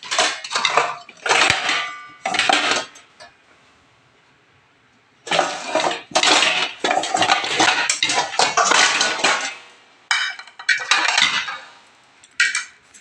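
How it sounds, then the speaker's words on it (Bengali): Metal cookware clattering and scraping in a home kitchen as a frying pan is pulled out from among the utensils, loud close bursts of clanking separated by a brief quiet gap. "ফ্রাই প্যানটা এখান থেকে নিয়ে নিলাম"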